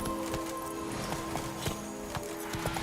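Hooves of the horse Roach clip-clop at a gallop in The Witcher 3, a steady rhythmic beat at moderate distance with no talking.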